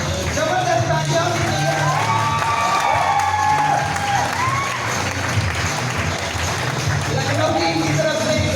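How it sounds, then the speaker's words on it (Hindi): An office group claps loudly for their team at a birthday greeting, with a dense, steady patter of hands blending with crowd chatter and cheering voices throughout. "जबरदस्त तालियां।"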